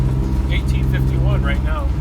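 A 3-cylinder 40 hp Yanmar diesel boat engine runs with a steady, close low hum, partly masked by a person talking over it.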